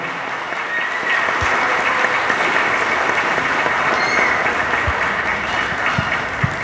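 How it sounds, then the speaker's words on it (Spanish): A congregation at a Sunday Mass applauds a girl who has just made her first communion, steady full clapping that fills the church evenly throughout. "Un aplauso para ella."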